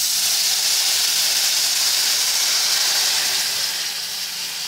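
Boiling water is poured into a hot pan of lightly browned rice, a loud, steady hiss of steam filling the clip before easing slightly at the end.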